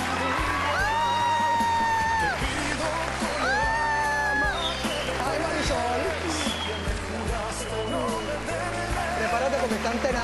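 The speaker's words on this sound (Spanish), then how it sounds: "Recibamos con un fuerte aplauso a Erika Astorga" A TV talk show studio audience cheers and whoops loudly, with rising shouts and yells over a busy, noisy room.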